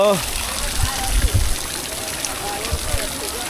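Cold water pours steadily at Sahastradhara waterfall, a continuous close rush and splash heard under a voice speaking throughout.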